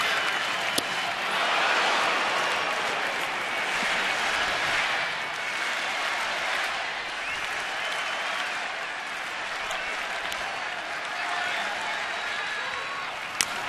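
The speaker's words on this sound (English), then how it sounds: "Listen to the crowd." A baseball stadium crowd roars and cheers during a New York Yankees game, a sustained broadband wash of thousands of voices and clapping that swells and eases over about fourteen seconds, distant and continuous.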